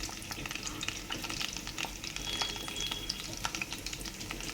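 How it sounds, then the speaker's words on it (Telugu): Tempering seeds sizzle and crackle in hot oil with softened onions in a pan for a coconut curry, a steady close frying hiss with occasional stirring scrapes and no talking. "ఇలా మగ్గిన దాంట్లో కొంచెం మనం ఇలా తాలింపు గింజలు అనేది వేసేసుకుందాం"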